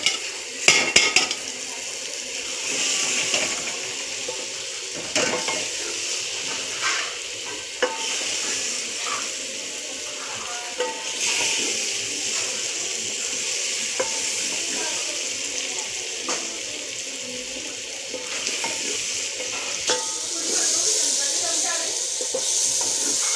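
Bitter gourd with boiled chana dal sizzles steadily in a pan while a spoon stirs and scrapes through it, close and continuous, with occasional sharp clinks of metal on metal.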